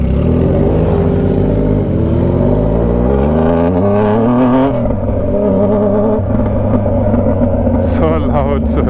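Yamaha Tracer 900 motorcycle ridden hard, its engine loud and close, with rising and falling revs sweeping up and down through the gears, and a voice speaking over it.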